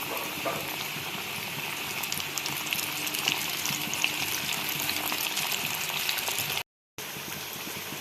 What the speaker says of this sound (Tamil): இப்போ எண்ணெய் நல்லா காஞ்சிச்சு. இப்போ சிக்கனை போட்டுக்கலாம்.